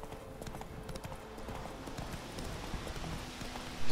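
Horse hooves clip-clop at a steady gallop in The Witcher 3, a quick even beat that holds at moderate loudness with faint game ambience behind it, and no talk.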